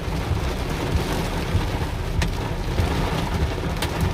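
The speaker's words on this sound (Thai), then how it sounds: "บรรยากาศค่ะฝนตกเป็นที่เรียบร้อย" Steady rain falls continuously, a dense even hiss with a low rumbling undertone and no voices.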